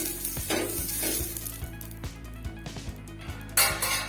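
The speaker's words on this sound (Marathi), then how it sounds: "आता ह्या कांद्याने चांगलं तेल चोळून घेते मी भिड्याला" A halved onion rubbed with oil across a hot iron griddle on a gas flame, ready for amboli batter. A soft sizzle is heard under repeated scraping strokes, with a few light metallic clinks and a louder flare near the end.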